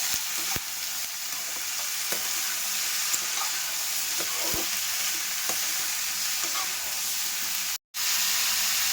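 A steady sizzle of finely chopped plantain frying in a pan, with scattered crackles and pops and a short break near the end.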